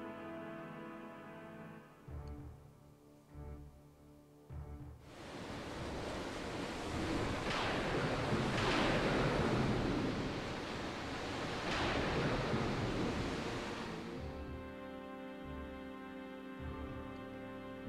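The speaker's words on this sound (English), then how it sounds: "The sea raged." Raging sea waves from the Final Fantasy video game swell in as a loud, sustained roar of surf for about nine seconds, set between stretches of soft synthesized game music.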